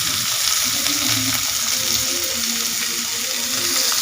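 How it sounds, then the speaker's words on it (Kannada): Sliced onion and coriander leaves frying in hot oil in a kitchen pan for an egg curry tempering, a steady close sizzle with a low bubbling undertone and no talk. "ಕೊತ್ತಂಬರಿ ಸೊಪ್ಪು ಮತ್ತು ಈರುಳ್ಳಿ ಹಾಕ್ಕೊಳ್ಳಿ. ಫ್ರೈ ಮಾಡ್ಕೊಳ್ಳಿ."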